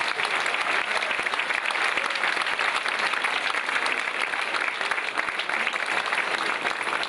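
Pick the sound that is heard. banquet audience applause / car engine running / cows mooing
banquet audience applause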